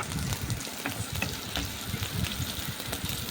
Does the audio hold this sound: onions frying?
yes